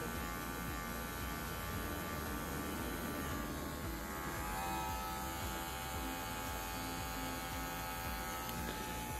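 Electric hair clipper buzzing steadily and close while cutting hair for a tape fade haircut, a continuous even drone with no talk.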